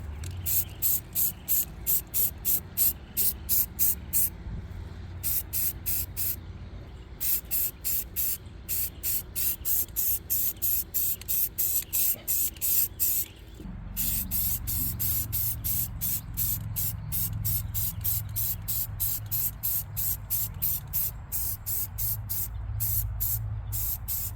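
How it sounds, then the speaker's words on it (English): Rust converter coating sprays onto rusty metal on a Toyota Tundra truck in a long series of short, rhythmic hissing bursts from an aerosol can, close and steady, with no talk. "I'm gonna coat the rust, and this will convert it, seal it."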